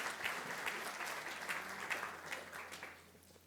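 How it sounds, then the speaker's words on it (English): A gala audience at a council workers' group 40th anniversary celebration applauds a speaker onto the stage, with steady, moderately distant clapping from many hands that thins out toward the end. "So please give a round of applause for Georgia Gould, the Labour leader of the council."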